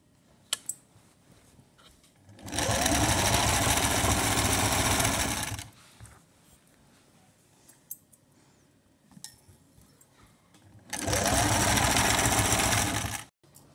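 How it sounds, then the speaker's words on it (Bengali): A sewing machine stitches the side seam of a long kameez in two loud, steady bursts of rapid whirring, separated by a quiet pause with faint clicks and handling noises. "সেলাই মারি দিব।"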